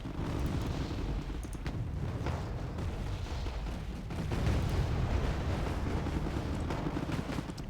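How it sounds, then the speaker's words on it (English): Rumbling booms and blasts roll through a battlefield in the Wargame Red Dragon strategy game as a missile is fired at a tank, with steady low explosive thunder throughout and a louder surge midway. "Missile is away, and it missed."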